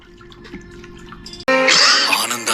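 Hot water is poured at a Vietnamese massage, a loud splashing rush that starts suddenly after a couple of seconds of quiet drips and clinks.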